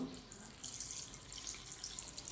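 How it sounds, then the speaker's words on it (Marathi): Water runs from a tap into a vessel of finely chopped cabbage, a soft close splashing and trickling that continues steadily for a couple of seconds. "त्याच्यात पाणी घालून घेऊ"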